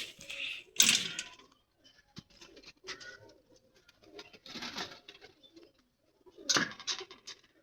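Soft pigeon coos come and go in short bursts, with a few sharp clatters and rustles from nearby birds in a quiet room.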